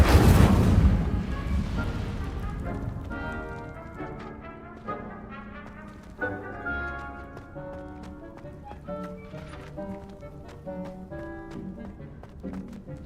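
A fire spell erupts in Hogwarts Legacy, a loud broadband burst of flame in the opening second that quickly fades beneath ringing orchestral game music.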